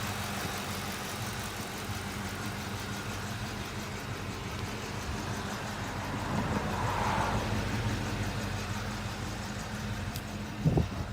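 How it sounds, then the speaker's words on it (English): A 2003 Ford Mustang Mach 1 with a 32-valve, four-camshaft V8 and stock rolled exhaust tips idles steadily nearby, a low even rumble with a faint ticking valve train. The idle swells a little partway through. "the car is actually pretty quiet, so you can hear the valve train noise"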